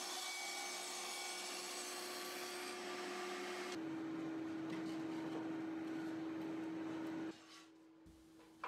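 A table saw cuts a groove in a wooden piece for a bath tray, a loud steady motor whine joined by a rough rasping bite as the blade meets the wood, then the wood clears and the blade spins on alone.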